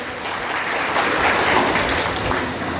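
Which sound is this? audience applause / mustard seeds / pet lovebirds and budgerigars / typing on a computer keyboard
audience applause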